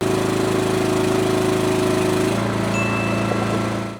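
A small Chinese micro digger's engine runs loud and steady close by, a continuous droning motor that shifts pitch partway through as it strains to lift a stack of dumbbells, with no talk over it.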